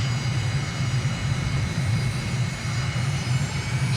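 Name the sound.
aircraft engine at takeoff, from video game Microsoft Flight Simulator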